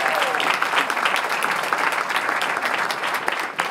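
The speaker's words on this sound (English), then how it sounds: "give Angela a big round of applause" Strong, steady audience applause at the Selma Jubilee event, a dense wash of many hands clapping that holds loud throughout with a few sharper claps near the end.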